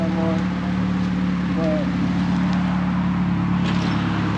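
A car fitted with a new single-exit exhaust idles steadily with a low, even drone throughout, while a person talks briefly over it.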